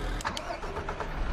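A truck engine cranks and catches in the Farming Simulator 2016 video game, with a brief starter whir followed by a steady mid-pitched running engine, close and fairly loud.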